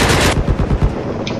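Rapid machine gun fire in the online shooter Battlefield 4 on the Caspian Border map, a loud continuous burst of closely spaced shots lasting over a second, up close and dominating the mix.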